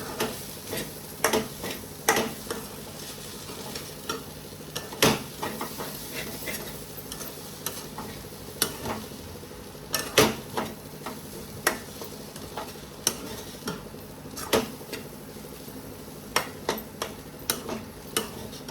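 Vegetables tossed and cooked in a pan with spices, a steady low sizzle broken by frequent sharp clinks and scrapes of a spoon against the pan, irregular and close, with no talking.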